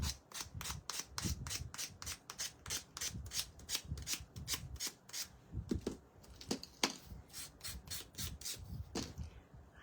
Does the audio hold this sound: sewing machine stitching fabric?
no